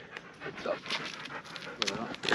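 A dog pants in quick, breathy rhythm near a hiker on a hilly outdoor trail, with a few brighter yelps or whimpers breaking in toward the end and voices talking faintly around it.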